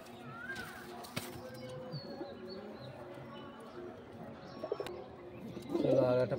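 Pet pigeons coo in low, soft rolling calls, faint and nearby, with a brief flutter and a louder burst of cooing near the end over a quiet background.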